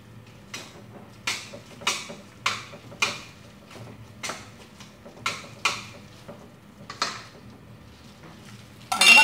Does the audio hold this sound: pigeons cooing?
no